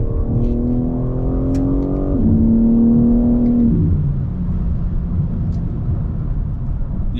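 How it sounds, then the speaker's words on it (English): A loud, steady BMW M3 Competition xDrive straight-six engine and exhaust drones up close, its pitch rising and then dropping as the revs change, with no talking. "The exhaust sound is fabulous."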